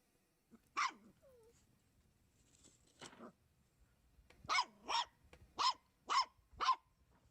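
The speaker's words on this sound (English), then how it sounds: "Oh, barking." A puppy barks repeatedly, a single yelp followed by a run of five sharp, evenly spaced barks, close and fairly loud in an otherwise quiet room.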